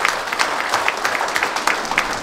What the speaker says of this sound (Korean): 여러분 박수 한번 주세요